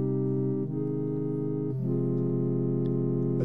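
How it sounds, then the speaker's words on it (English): A buzzy, harmonically rich wavetable synthesizer drone holds steady chords that shift twice, with faint high sweeping overtones above, sustained and unaccompanied. "Today we're checking out a new Wavetable synthesizer."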